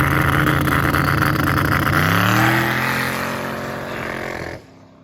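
An E85-fuelled street race car makes a hard boosted pull, its loud engine roar climbing steadily in pitch for a few seconds before the throttle lifts and the sound drops abruptly to a lower idle-like rumble.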